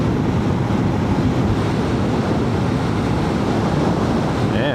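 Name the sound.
water rushing over a lake spillway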